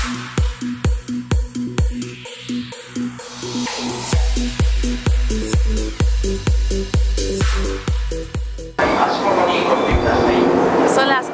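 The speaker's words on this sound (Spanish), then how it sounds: "están llegando los dos trenes que se van 8:33" Trains pull into a station in Japan, with a rapid series of loud rhythmic clanks and wheel thumps slowing over about nine seconds before giving way to a broad hiss and rumble at close range.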